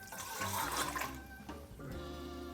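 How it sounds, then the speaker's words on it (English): Liquid pours steadily into a pot on a stove set to medium heat, ahead of dissolving sugar, with a rushing, splashing water sound that dips briefly near the middle and then continues. "I'm going to pour this into the pot"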